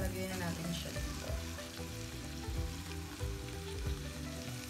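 Cooked Lucky Me pancit canton noodles hit a hot pan and fry with a steady, dense sizzle and crackle, joined by the scrape of stirring, close and continuous with no talking.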